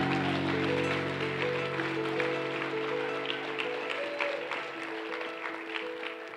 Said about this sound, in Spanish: Si va a aplaudir, hágalo con ganas, pues.